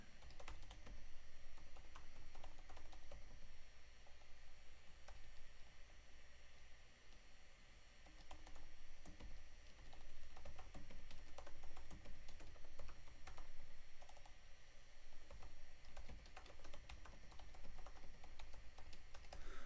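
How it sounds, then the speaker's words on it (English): Keys clatter on a computer keyboard in a quick, continuous patter of soft clicks, close but quiet under a faint hiss, with no talking. "I'm going to type in the chat here"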